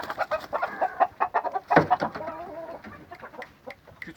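Aseel roosters, hand-tame large birds, give a series of short clucks and throaty calls at close range, irregular and moderately loud, with one fuller call in the middle.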